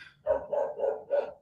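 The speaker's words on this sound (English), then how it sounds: "yes, there's a dog." A dog barks four times in an even, steady rhythm, close and fairly loud, with no talking over it.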